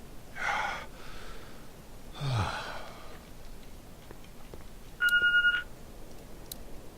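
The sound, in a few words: telephone beeping in video game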